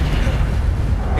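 A fiery Incendio spell blast from the Hogwarts Legacy video game, a loud, dense low rumble of roaring flame that holds steady throughout with a brief burst near the end and voices underneath.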